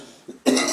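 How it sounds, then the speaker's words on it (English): A single cough from someone speaking to camera, one sharp close burst after a brief faint throat sound, with no talk in the moment. "The cough is just there."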